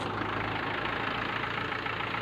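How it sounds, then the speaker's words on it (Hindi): Tractor diesel engine idling after starting, a steady loud chugging rumble with a rapid low knock, close and continuous, with no talk. "तो हम इसको स्टार्ट करेंगे।"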